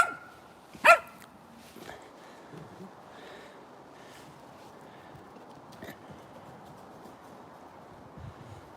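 One sharp dog bark rings out early on a leisure trail walk, followed by faint yips and soft background noise outdoors.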